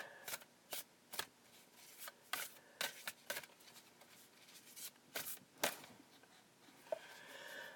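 An oracle card deck is shuffled by hand, giving a faint, close run of soft, papery snaps and riffles that come at an irregular pace, with no speech.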